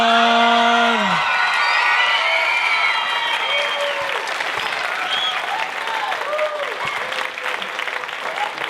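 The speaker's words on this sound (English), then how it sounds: "We give a huge round of applause to Mr." An audience at an elementary school performance claps loudly and continuously, with dense, sustained applause. A voice speaks over the start, and scattered whoops follow.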